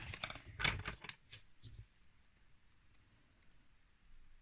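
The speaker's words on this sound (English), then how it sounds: "I do want to tidy up that bit of fussy cutting though." Scissors fussy cutting card paper for card making, a quick cluster of faint close snips in the first two seconds, then near silence.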